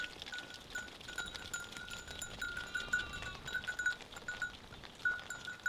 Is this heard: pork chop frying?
no